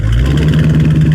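A car's exhaust after a mid-muffler delete revs loudly and up close, a deep throaty rumble with pulsing low tones rising and falling through a short burst of throttle.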